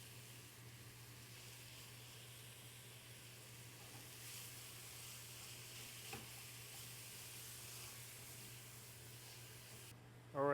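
Ground meat for a tagliatelle ragu Bolognese browns in a pan, giving a steady, even sizzle and hiss that runs close and unbroken throughout with no talking.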